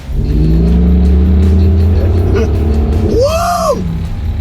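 A loud diesel car engine roars steadily, then revs sharply up and back down near the end, with a deep, rumbling low end throughout.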